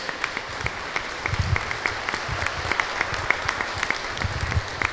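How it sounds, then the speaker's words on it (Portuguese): A church congregation claps for Jesus during a worship service, an irregular crackle of many hands with a few louder nearby claps and some low murmuring underneath. "Aplaudir Jesus, gente."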